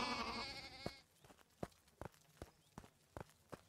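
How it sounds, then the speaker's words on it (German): Sheep bleat in the video game Deiland, a close, wavering cry lasting about a second, then a run of regular soft thuds like footsteps or hooves. "Machen wir mal kurz die Schafis"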